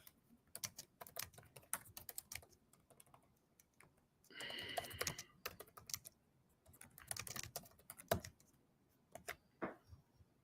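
Typing on a computer keyboard, quiet and close, with irregular bursts of key clicks separated by short pauses and a brief rustling sound midway.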